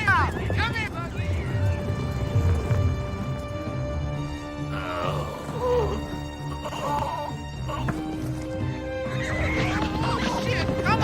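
A horse whinnies loudly amid a busy, dense mix of sound, with hooves clopping and voices shouting over it.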